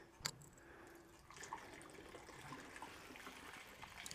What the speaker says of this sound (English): Just rinsed it out, giving it a bit more water just to get the rest of it out if I can.